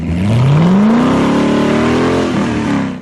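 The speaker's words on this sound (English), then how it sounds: "first up is the Duronda sports car" A Duronda F350 sports car, a UK-designed exotic originally fitted with a 1.8-litre Audi turbo engine, revs hard with a rising engine note that climbs and holds, loud and close, with no voices.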